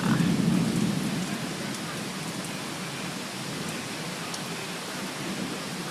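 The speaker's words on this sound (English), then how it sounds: "Here's the storms that was causing all kinds of tornadoes earlier tonight." A severe thunderstorm, the kind linked to tornadoes, with heavy steady rain and a rolling rumble of thunder loudest at the start, then a dense even downpour.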